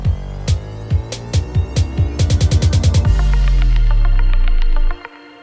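A trap beat in Ableton Live plays punchy drum hits and chords, then the sound sweeps through one long rising pitch bend before cutting off abruptly, loud and electronic throughout.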